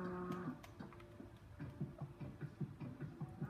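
Several cows moo close by in low, drawn-out calls, followed by a run of rhythmic ticking over faint background noise.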